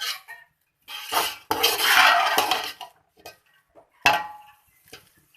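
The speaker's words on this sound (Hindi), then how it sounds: "अच्छे से इसको मिक्स कर लें" Egg fried rice being mixed in a pan, with bursts of spatula scraping and clanking against metal separated by short pauses, close and clear.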